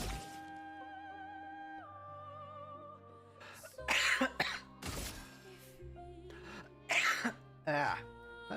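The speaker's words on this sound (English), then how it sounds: "Not sure why I'm coughing so much." A man coughs repeatedly, several harsh, close bursts and throat clears in uneven succession over a sustained musical backing from a video game.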